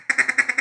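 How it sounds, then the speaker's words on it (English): A single-reed duck call blown as a feeder call, six quick, evenly spaced nasal quacks, loud and close, with no other sound. "I think I'll get that feeder call down here."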